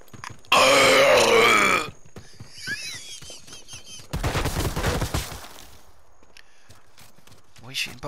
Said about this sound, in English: Shooting boxes. Gunfire gives away your position, Andy.